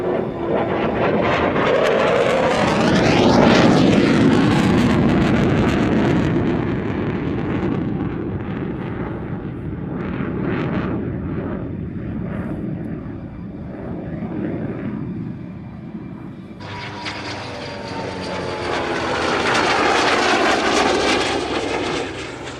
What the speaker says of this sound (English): And here it comes one more time, with the sun setting, glinting off this wonderful aircraft.